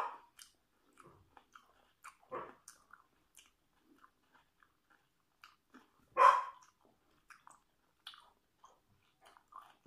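Raw eggplant is bitten and chewed close up in a quiet room, giving scattered soft crunches with one louder bite in the middle and pauses between chews.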